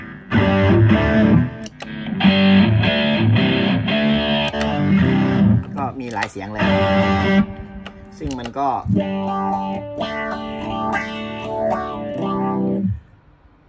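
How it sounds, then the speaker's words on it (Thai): Heavily distorted electric guitar chords and riffs through preset tones of a Zoom G3Xn multi-effects pedal, switching sounds several times, with someone speaking briefly between passages. "อันนี้คือเสียง preset ที่เขาตั้งไว้แล้วนะฮะก็จะประมาณนี้"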